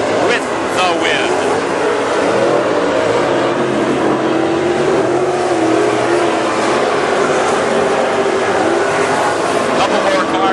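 WISSOTA super stock race cars roar around the Princeton Speedway track in a loud, continuous engine drone, with a commentator talking over the racing.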